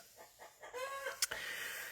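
Backyard chickens cluck and squawk excitedly in a brief, faint burst at a distance, with one sharper cry rising above the rest.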